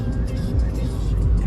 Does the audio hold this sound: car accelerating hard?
yes